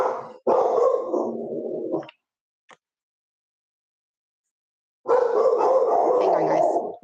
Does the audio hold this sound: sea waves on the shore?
no